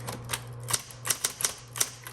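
Keys clack on a 1960s Smith Corona Coronet Automatic 12 electric typewriter, about eight sharp nearby strikes spaced irregularly with brief pauses, over a low constant motor hum.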